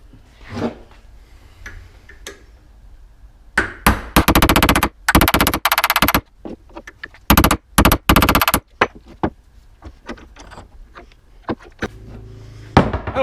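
Hammer blows drive a chisel into a BMW E46 xi front axle carrier to split it apart, coming as several rapid bursts of sharp, loud metallic strikes with scattered single taps in between, close up.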